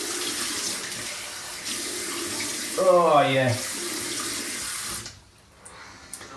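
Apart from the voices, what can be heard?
tap water running, cold water splashed on face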